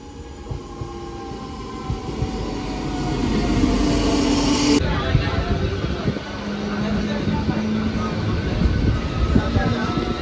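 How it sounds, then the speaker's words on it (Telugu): A MEMU Express train rolls along the Khammam platform with a steady, loud rumble and clatter, and a long tonal squeal partway through. "మన ట్రైన్ వచ్చేస్తుంది."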